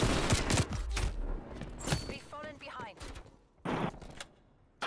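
Rapid bursts of gunfire crack through a video game shootout, several volleys of shots spaced across the stretch with quieter gaps, a voice talking between them.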